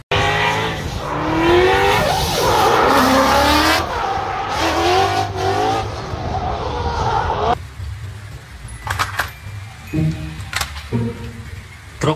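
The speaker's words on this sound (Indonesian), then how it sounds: "mobil balap." A race car engine wails in loud, rising and falling sweeps with screeching tire squeal. After several seconds it drops to quieter, intermittent bursts.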